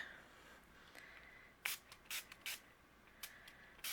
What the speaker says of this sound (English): And we're going to spray